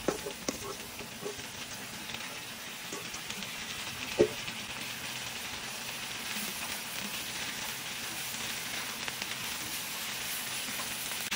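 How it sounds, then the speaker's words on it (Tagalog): Carrots and shredded cabbage sautéing for pancit noodles give a steady, moderate sizzle and hiss throughout, with one brief sharp clatter partway through and no talking. "Yan, nagisa na guys yung carrots at saka yung repolyo."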